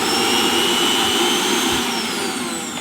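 A Bajaj mixer grinder, its motor bush just replaced, runs with a steady high-pitched whir, loud and close, with no rattling and no talk.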